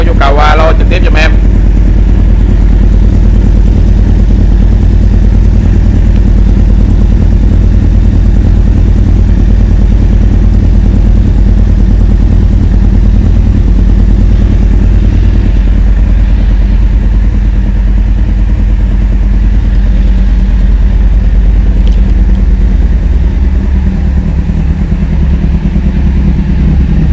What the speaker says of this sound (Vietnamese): Kawasaki Z800 nha mọi người